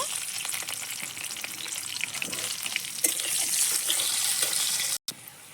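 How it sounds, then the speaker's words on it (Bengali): Potatoes frying in oil in a pan over a wood-fired clay stove, a steady bright hiss and crackle that swells slightly midway and cuts off near the end; no one talks. "এবার আলুগুলোকে একটু ভেজে নেব"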